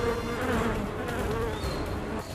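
Hornets buzz around honeybee hives as they snatch bees, a dense, steady insect drone close to the microphone that holds without a break.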